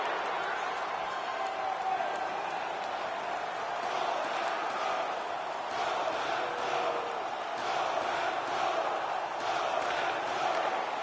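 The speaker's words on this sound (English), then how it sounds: "The crowd is louder in their distaste for it." Hockey crowd at a Tampa Bay Lightning at Montreal Canadiens game, a broad sustained roar of disapproval over a disallowed goal, loud and steady for the whole stretch with a commentator's voice underneath.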